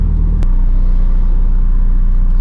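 A Honda Civic EG engine idles steadily with a deep, constant rumble close by, with one brief click near the start.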